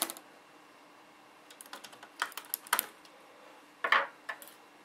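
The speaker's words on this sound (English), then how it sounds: "Now that you have those screws off, the keyboard should just pull right out." The keyboard of an HP G50 laptop is pried out, giving scattered close plastic clicks and rattles in irregular bursts over a quiet background.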